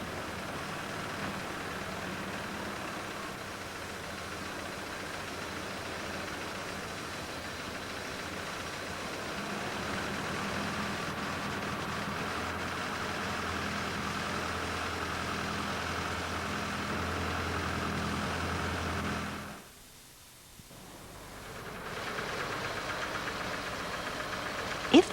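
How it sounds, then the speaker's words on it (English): A cold Fiat car engine with L-Jetronic fuel injection idles steadily during a supplementary air valve test, giving a low, even mechanical hum. Near the end the sound briefly dips sharply, as if the revs drop, then recovers. "With the engine cold, the revs should drop away when the air pipe is clamped."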